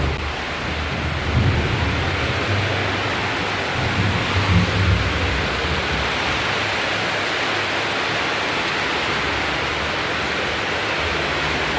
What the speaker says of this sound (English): Heavy rainfall.